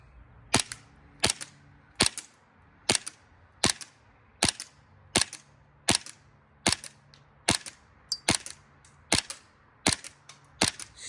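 USHOT TP22 gas blowback airsoft pistol firing a string of about fourteen sharp, evenly spaced cracks, close and loud, with quiet gaps between shots.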